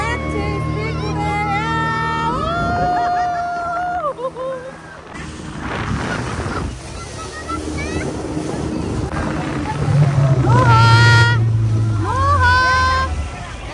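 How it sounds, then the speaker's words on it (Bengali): A speedboat runs on open water at a park, its engine a loud steady drone mixed with wind buffeting and splashing, while people talk and shout over it throughout. "আমরা যাচ্ছি স্পিডবোটে।"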